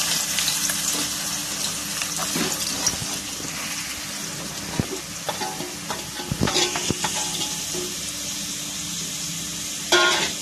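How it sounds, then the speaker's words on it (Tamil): Onion frying in a pan for kuzhambu, continuous close sizzle with irregular scrapes and clinks from stirring, one louder knock near the end. "குழம்புக்கு ஆனியன் போடுறேன்"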